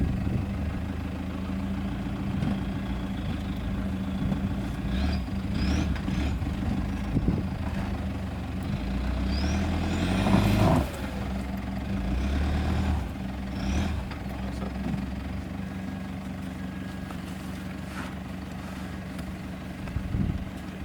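Bogged vehicle with its wheels stuck, the engine idling and revving in uneven surges, one stronger push in the middle, heard at moderate distance in an outdoor setting.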